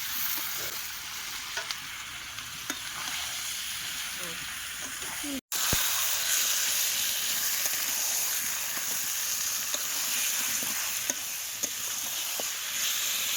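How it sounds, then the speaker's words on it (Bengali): Chicken meat dropped into well-fried spice masala in a pan, sizzling loudly and continuously with a brief cut near the middle, then steady close-up frying with occasional scraping stirs. "মশলাটা ভালো করে কষাই করে নিয়ে এইবারে মাংস দিয়ে দিচ্ছি।"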